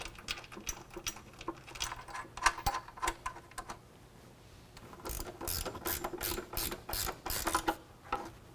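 A hand ratchet tightens bolts on a running board bracket under a 2019 Chevrolet Silverado 1500. Bursts of rapid clicking come in several runs with short pauses between them, close and fairly loud.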